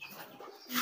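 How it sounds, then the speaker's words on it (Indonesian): Kolong pigeon cooing, a soft low call rising into a brighter burst near the end, heard alone at close range with faint background. "ini merpati kolong"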